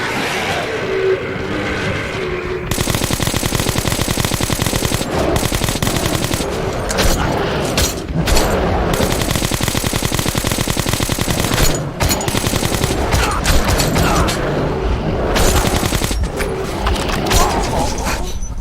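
Automatic gunfire in the video game Metro: Last Light, long loud sustained bursts with brief pauses between volleys.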